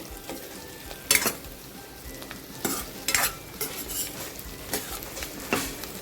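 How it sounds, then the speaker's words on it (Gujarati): Stuffed gunda sautéing in hot oil, a soft steady sizzle broken by several loud scraping stirs of a spoon against the pan at irregular intervals. "આપણે એને સરસ તેલમાં સતળાઈ જાય ત્યાં સુધી એકદમ સાતળીએ"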